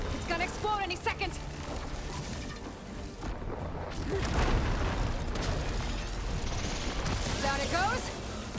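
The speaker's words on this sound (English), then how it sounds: "It's gonna explode any second." A machine blows up in the action video game Horizon Forbidden West after being hit with plasma: a heavy booming blast in the middle, with crackling bursts over continuous game sounds and someone talking.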